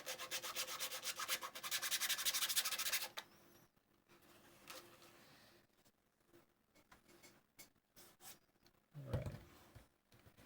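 3D printed part being sanded by hand, giving a close, steady scratchy rasping for about three seconds before fading to quiet handling noises and a brief soft scuff near the end.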